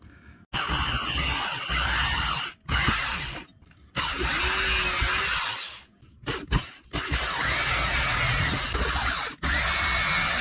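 A power drill bores holes to form a screen door slot on a Four Wheel Camper, running in several loud, close bursts separated by short pauses, with no talking.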